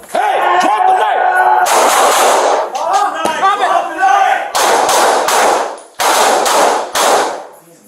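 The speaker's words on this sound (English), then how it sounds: "Sam, 4 shots fired" Four sharp, loud gunshots are fired at a knife attacker in a garage during a police confrontation, spaced over a few seconds amid frantic shouted commands and yelling voices.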